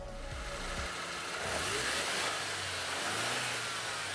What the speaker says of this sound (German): Dafür klingt der Motor aber heute immer noch erstaunlich gut.